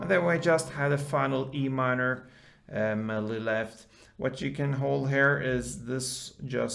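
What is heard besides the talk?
None of the usual background noises is heard.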